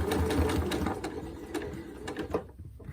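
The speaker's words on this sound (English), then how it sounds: "I'm just going to put the needle down and just sew onto the edge of my scrap of fabric." A sewing machine stitches onto the edge of a small fabric scrap, its needle hammering in a fast, even mechanical rhythm at close range for a few seconds before slowing near the end.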